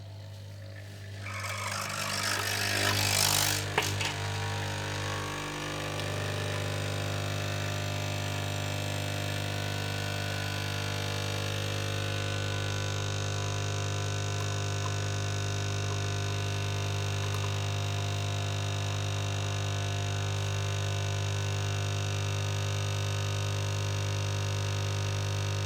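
Nespresso Essenza Mini C30 capsule machine brewing a lungo: a brief rattling pump burst at the start, then a steady droning mechanical hum with a low buzz that runs on for over twenty seconds, close by with no talking.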